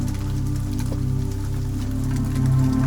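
Soft rainfall patters continuously beneath calm, sustained light music, the texture staying even and close throughout, with no one speaking.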